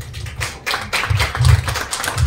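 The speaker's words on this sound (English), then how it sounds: "Let's give him a warm round of applause." Audience applause fills a corporate Canon printer launch event in the Philippines: dense, steady clapping from a crowd, fairly loud and close, sustained throughout with no voices on top.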